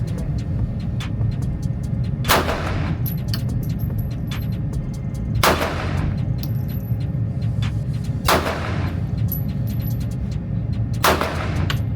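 Four single gunshots from a rebuilt gun at an outdoor shooting range, evenly spaced about three seconds apart, each a sharp loud crack over a steady background hum.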